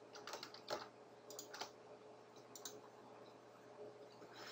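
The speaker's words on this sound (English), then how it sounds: "Let's enter a sales order and line and click the download button." Typing and mouse clicks on a computer keyboard, a quiet, close run of irregular taps and clicks in clusters, with no talk.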